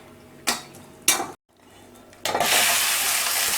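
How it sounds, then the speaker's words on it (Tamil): Cashew nuts are dropped into hot ghee in a pan, heard first as a couple of sharp clinks and stirs, then a sudden bright sizzle that carries on steadily. "இப்போ வெள்ளை பூசணிக்காய்க்கு முந்திரி பருப்பு வறுத்துக்கலாங்க"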